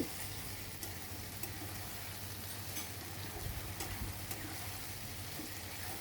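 Peanut chicken with soy and oyster sauce sizzles steadily in a pan over high heat while being stirred, a constant close frying hiss with occasional scraping pulses.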